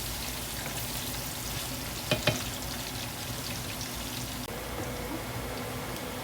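Onions sautéing in a pan for beef kaldereta fill the whole stretch with a constant close sizzle, broken by a couple of brief utensil taps about a third of the way in.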